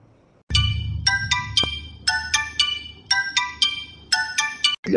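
An electronic phone ringtone repeats in short bursts of bright chiming notes, loud and rhythmic, with a brief gap before the last burst.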